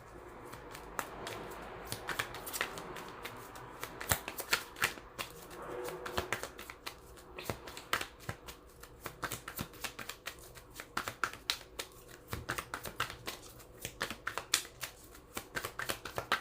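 Tarot cards being shuffled during a reading, a dense run of soft riffling flicks and taps that carries on steadily and fairly quietly, with no voices.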